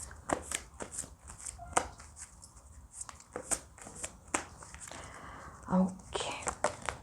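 Tarot cards being shuffled by hand, a run of crisp riffling slaps and flicks coming close and moderately loud, with brief pauses between bursts and no talking.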